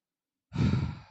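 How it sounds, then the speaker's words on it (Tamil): A single demonstration exhale, a loud breath out close to the mic, starting after a moment of silence and trailing off, with no talk. "அப்படின்னு மூச்சு விடுறீங்க"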